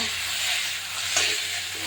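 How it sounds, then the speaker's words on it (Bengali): Vegetables fry in the oil left over from frying fish, producing a dense, continuous sizzle at close range with a faint clink or stir near the middle. "মাছ ভাজা তেলের ভিতরেই আমি দিয়ে দেবো এই সবজি ঠেলে সবজি একটু ভেজে নেব"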